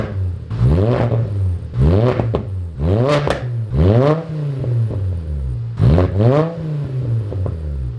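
A decatted Volkswagen Jetta's 2007 five-cylinder engine with a new custom exhaust and Vibrant Ultra Quiet resonator revs up and drops back about five times in steady bursts, loud and close, each rev sweeping up and falling to idle.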